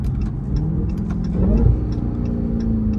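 A Dodge Charger Hellcat rumbling at low revs during a night drive, with a sharp rise in engine note midway and faint ticking pops from the exhaust.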